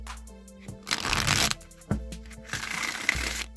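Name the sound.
shuffling a Rider-Waite tarot deck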